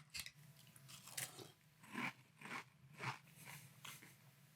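Cinnamon French Toast Frosted Flakes eaten in milk, a run of close crunchy bites and chewing at an uneven pace, fairly quiet with no talking.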